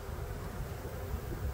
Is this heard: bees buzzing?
yes